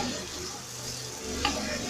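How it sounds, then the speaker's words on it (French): Peanuts fry in oil in a pot and are stirred, giving a close, steady sizzle with a brief scrape of the spoon, no talk. "nous mélangeons jusqu'à ce que ça va rendre son huile"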